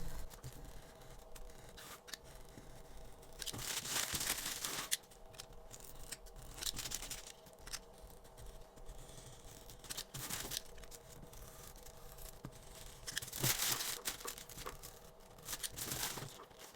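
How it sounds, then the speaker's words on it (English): A very sharp X-Acto knife scores tissue paper against a wooden frame, giving faint papery scratching strokes, with two louder rasping passes among quiet rustling and no talking. "you can use a very sharp X-Acto knife and score it against this wooden frame."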